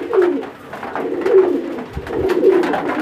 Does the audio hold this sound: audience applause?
no